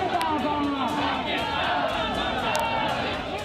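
A large crowd in the town of Sann in Sindh province chants and shouts protest slogans against Pakistan, a dense, continuous roar of many voices with rising cries, loud and steady throughout.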